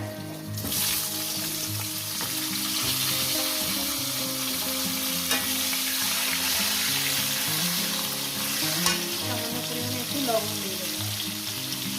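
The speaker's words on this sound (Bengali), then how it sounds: "আলুগুলো ভেজে নেব লাল আলুগুলো" Steady sizzling of potatoes frying in hot oil, with occasional stirring and scraping sounds, close up and continuous throughout.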